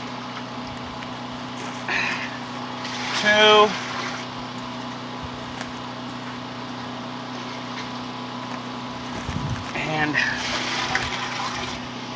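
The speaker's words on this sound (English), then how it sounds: "we're going to start out with 3 of these measures of water. Water goes first" Water is poured into a stucco mixer before mixing, with brief splashing gushes at a few moments over a steady background hum while someone talks and counts.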